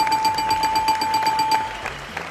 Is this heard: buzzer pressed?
yes